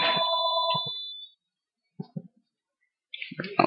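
A telephone rings with a bright electronic warble for about a second, then falls silent; a few short clicks follow, and later a burst of busy, indistinct activity returns near the end.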